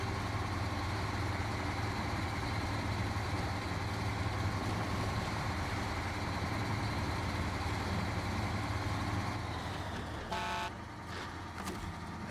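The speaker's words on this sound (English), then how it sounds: "Wait, isn't the Chimera's engine sound from something else?" The Chimera spaceship engine in a video game gives off a steady, dense mechanical hum with a low drone that holds unchanged for several seconds, then shifts near the end with a few short tonal blips.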